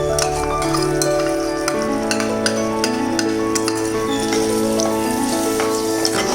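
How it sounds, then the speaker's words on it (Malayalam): Cooked prawns drop into a Kerala-style masala in a hot pan and fry with a steady sizzle, loud and close, while a spoon clinks against the pan repeatedly as the mixture is stirred, with no talk. "ഇനി ഇതിലേക്ക് വേവിച്ച് വെച്ചേക്കുന്ന ചെമ്മീൻ ചേർത്ത് കൊടുക്കാം"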